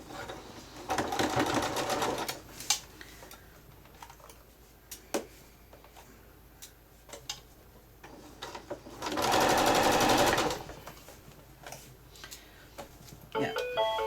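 A sewing machine back stitches through a fully zipped, lined, quilted tote in two bursts, a short run early and a denser one later, with quiet clicks, handling noises and brief talk between them.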